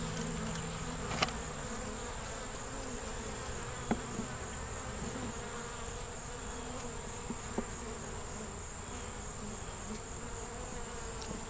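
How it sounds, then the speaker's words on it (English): Honey bees hum in an open hive as a steady, soft drone throughout, with a few faint clicks and knocks of hive equipment and no talking. "The bees are walking on it, but not doing a whole lot."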